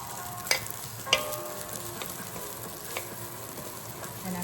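Rice is stir-fried in beef fat in a pan, a steady sizzle broken by a few sharp scrapes and clanks of the utensil against the pan as it gets mixed.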